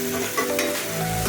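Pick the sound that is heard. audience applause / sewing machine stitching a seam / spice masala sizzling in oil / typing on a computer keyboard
spice masala sizzling in oil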